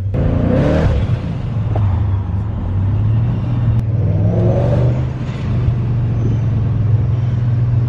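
A supercharged BMW E39 M5 drives past loud and close, its engine rumbling low while the supercharger whines on a steady tone that rises as it gathers speed.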